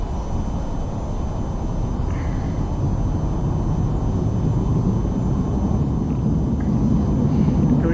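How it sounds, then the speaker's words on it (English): An F-35 jet in the VTOL VR video game takes off at full throttle, giving a steady broadband roar with a low rumble that holds throughout at moderate loudness. "So I'm full throttle for the takeoff."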